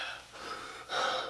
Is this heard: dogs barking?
no